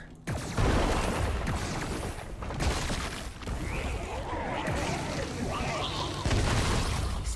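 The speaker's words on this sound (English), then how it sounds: "Explosions." Rapid explosions and blasts in Far Cry 5 Lost on Mars, dense and continuous, with loud bursts layered over game effects and a voice talking over them.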